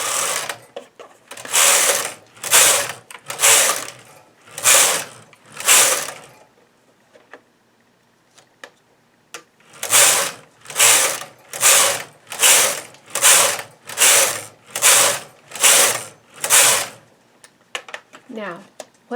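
Knitting machine carriage pushed back and forth across the needle bed, a run of regular rhythmic clattering sweeps, a pause, then another longer series of evenly spaced passes, close and fairly loud.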